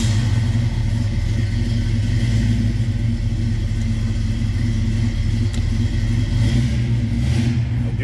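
1968 Pontiac Firebird convertible with its engine running, a deep steady rumble with a low throaty tone, close and loud throughout with no talking.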